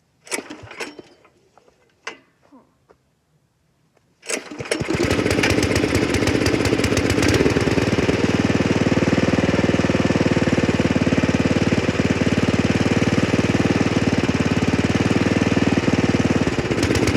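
An old tractor engine, primed with starting fluid, gives a few clicks and cranks, then catches and settles into a loud, steady, close rattling run.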